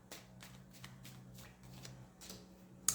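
A tarot card is drawn from the deck with soft, close papery flicks and slides, a few light brushes followed by a sharper snap at the end, quiet with no speech.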